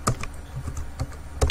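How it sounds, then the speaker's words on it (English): Keys on a computer keyboard clack in quick, irregular taps, several light strokes in a row picked up close by a desk microphone, with no talking. "sorry if you can hear some noise, that is my keyboard that I'm pressing."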